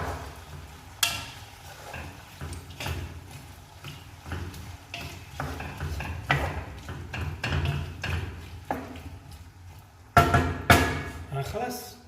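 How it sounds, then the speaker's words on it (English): Potatoes and onions stirred together in a pan over a fire in Gaza for a Spanish omelette: irregular scraping and clattering strokes with soft sizzling underneath, a few sharp louder knocks near the end. "We mix the potatoes and the onions."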